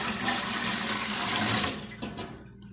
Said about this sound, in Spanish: Y voy a ponerle agua.